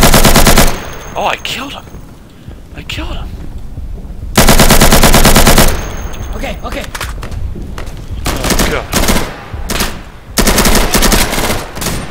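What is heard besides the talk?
gunfire in a video game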